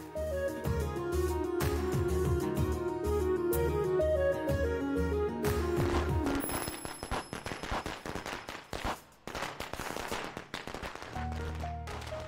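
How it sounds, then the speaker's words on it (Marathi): Music plays, then a rapid barrage of firecrackers bursts in crackling volleys, loud and close, with dense irregular pops. "एवढा आवाज आहे फटाक्यांचा."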